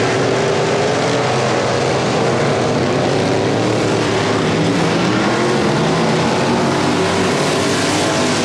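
Stock cars roar around the Sabine Motor Speedway oval in a dense, continuous, loud wall of engine noise during the main event, with no voices over it.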